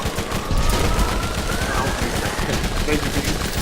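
Rapid gunfire from the Borderlands video game crackles in a dense, continuous burst against a busy, loud game-battle backdrop with no pauses, including an eye-laser boss fight.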